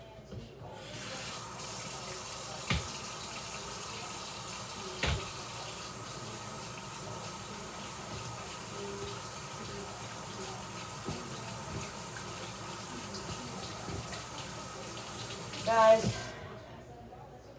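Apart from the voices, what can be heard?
hand washing at a running tap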